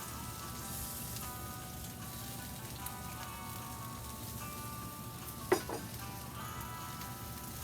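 Chopped chives and garlic scapes sizzle in a frying pan beside a resting top sirloin roast, a soft, steady crackle with one sharp clink partway through and no talking.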